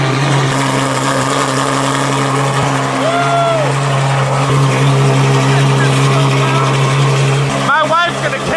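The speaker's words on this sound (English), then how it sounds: "It's time to take her out on the road for the first time with the new exhaust." A Ferrari F12 Berlinetta with a newly fitted exhaust drones steadily on the road at a low, even pitch throughout, with a brief rising rev near the end and voices talking over it.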